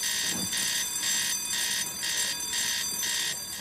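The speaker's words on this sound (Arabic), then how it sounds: "على طول كده جرس انذار" A bank alarm bell ringing in a comedy scene, loud and continuous with a pulsing rhythm about twice a second, steady throughout with no talk over it.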